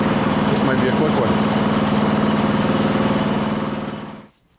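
A Craftsman 7hp snow blower engine runs at a steady, loud, throbbing idle while warming up, then cuts off and winds down at the end.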